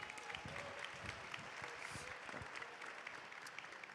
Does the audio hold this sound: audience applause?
yes